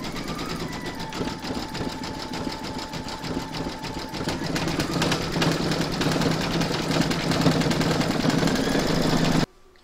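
An embroidery machine satin stitches a reindeer applique with a rapid, steady mechanical chatter and hum that grows slightly louder before stopping abruptly near the end, no voices over it.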